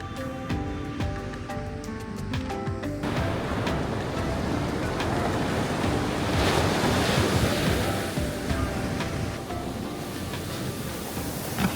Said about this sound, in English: enjoy the sounds of the waves